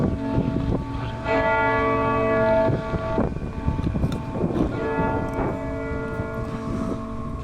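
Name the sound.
cathedral bell tolling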